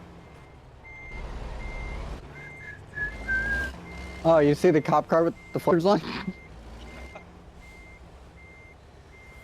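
A virtual truck in American Truck Simulator backs into a spot, its reversing alarm beeping in a steady, evenly spaced series under engine hum, while someone talks over it loudly in the middle.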